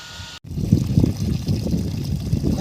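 Water flows from the pipe of a 5HP AC motor pump into a storage tank with a steady, close gushing rumble. A brief dropout comes near the start.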